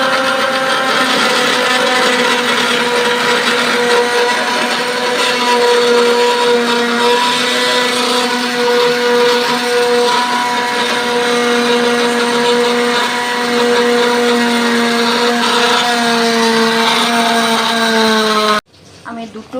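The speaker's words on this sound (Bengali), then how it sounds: "আমি মিক্সির মধ্যে আদা আর লঙ্কা পেস্ট করে" A kitchen mixer grinder pasting ginger and green chilli runs steadily and loudly, a continuous high whirring drone with harmonic tones, then cuts off abruptly near the end.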